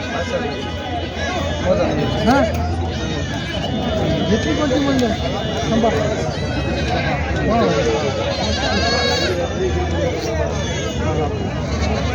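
Goats bleat repeatedly at a busy Maharashtra goat market in Jawala, their wavering cries rising over a dense hubbub of crowd chatter and voices throughout.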